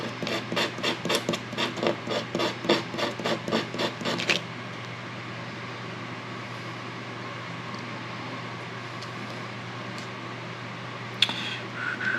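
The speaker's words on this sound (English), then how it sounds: "Just doing some hand sanding here on these arms" Rhythmic back-and-forth rasping of hand sanding on the wooden arms of an inlay cross, about a dozen quick strokes, then it stops, leaving a quiet room hum.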